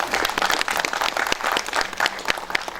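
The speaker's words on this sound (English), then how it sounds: "Please give her a big round of applause." An audience applauds for film editor Carol Littleton at an in-conversation session at IFFI 2019 in Goa, a steady patter of many hands clapping at moderate loudness from start to finish.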